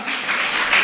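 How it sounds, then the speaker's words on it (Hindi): A brief burst of applause for children at a devotional religious gathering, with the clapping dense and close and lasting under a second. "इन सभी बच्चों के लिए एक जोरदार तालियां।"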